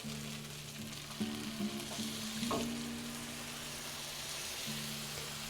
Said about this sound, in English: Now I'm going to add my beef broth.